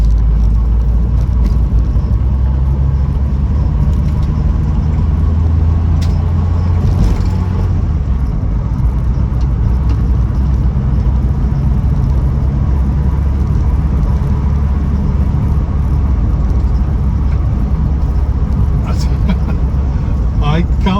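A Ford Cortina 1600E on the road, heard as a steady, loud engine rumble and road noise throughout, with a voice talking over it.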